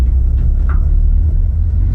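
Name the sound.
budget drift car driving with repaired differential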